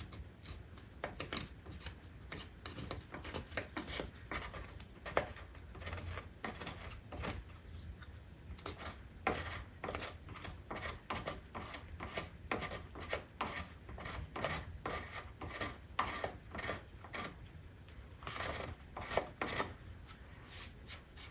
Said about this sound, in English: I just lightly scrape